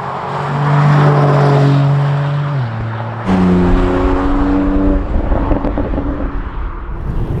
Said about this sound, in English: and the rear of the car we have the Remus titanium exhaust